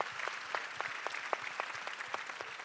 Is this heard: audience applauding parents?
yes